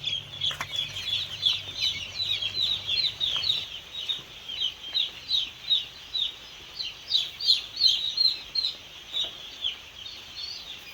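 Broiler chicks in a brooding shed cheep and cluck in a steady, busy chorus of high peeps rising and falling in waves, with a low hum underneath early on.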